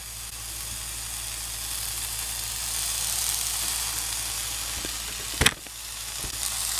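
Sliced ham sizzles in a hot pan with a steady, broadband hiss that holds evenly throughout, with one brief knock near the end.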